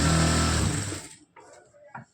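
Sewing machine stitching a lined blouse, a short loud whirring run that stops after about a second, followed by faint clicks and handling.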